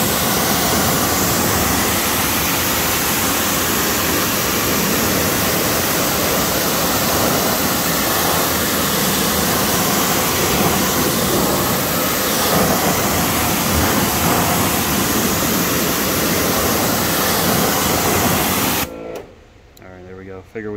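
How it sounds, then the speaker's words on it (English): A steady, loud broadband hiss of a pressure washer spraying a car's tires and wheels runs continuously for most of the clip, then cuts off abruptly near the end. "So we got the pressure washer for that."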